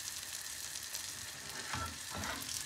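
A thin egg omelette fries in a pan with a soft, steady sizzle and crackle, plus a few faint scraping stirs.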